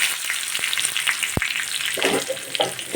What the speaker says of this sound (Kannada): ಇವಾಗ ನಾನು ಸಾಂಬಾರಿಗೆ ಒಗ್ಗರಣೆ ಹಾಕ್ತಿದ್ದೀನಿ